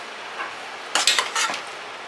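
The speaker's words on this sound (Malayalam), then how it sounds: "ഇനി നന്നായി മിക്സ് ചെയ്യാം അല്ലേ?" A spoon stirring and scraping food in a metal pan while cooking a Christmas dinner, a quick burst of clinking, scraping strokes after a quiet moment, close and clear.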